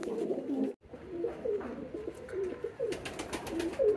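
Pigeons coo repeatedly in soft, low, rolling phrases, several calls overlapping at moderate distance, with light rustling and flutter near the end and no speech.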